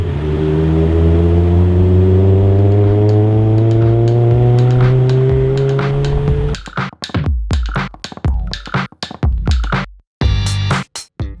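A Toyota AE86 engine revs loudly and steadily with rising pitch for several seconds, then breaks into a string of sharp, choppy bursts and throttle blips with brief gaps, close and alone.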